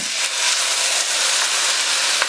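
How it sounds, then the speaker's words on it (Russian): Rice fries in melted butter in a pot over medium heat, giving a loud, steady broadband sizzle and hiss that stays continuous throughout with no talking. "Буквально 5 минут прожариваем его в масле."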